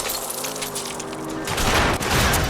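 Sharp gunshots crack out in a quick volley at a fleeing car's tires in L.A. Noire, landing loud and close over engine hum after a short tonal lead-in.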